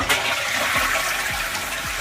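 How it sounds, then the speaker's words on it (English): A flushing Japanese toilet with a built-in hand-wash basin on top of the tank, giving a steady close rush and gurgle of water that runs unbroken from start to finish, with no voices. "the water that's clean that comes in to flush the bowl, you also wash your hands in"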